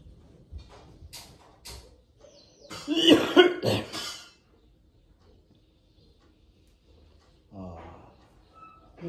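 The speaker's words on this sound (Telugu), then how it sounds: "ఏందప్ప నాయన అట్లా దగ్గుతున్నావు?" A person coughs in a short burst of harsh, loud coughs, preceded by a few faint throat sounds and followed by quiet, with a brief muffled voice near the end.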